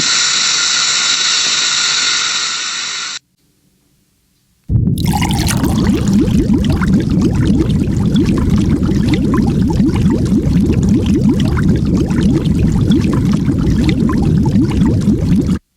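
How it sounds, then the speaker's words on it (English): Marble pieces of calcium carbonate fizz in hydrochloric acid, a dense crackling hiss of bubbling liquid heard loud and close; a steady tone plays first, then a brief silence before the fizzing starts and continues to the end. "When calcium carbonate, marble, is placed in hydrochloric acid, carbonic acid is produced, which is converted to gaseous carbon dioxide and water in a gas-forming reaction"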